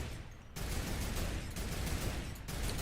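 Gunfire from guns and turrets on a yacht in a Fortnite UEFN video game map, a dense, continuous loud roar of rapid shots that kicks in abruptly after a half-second of quieter sound and holds steady.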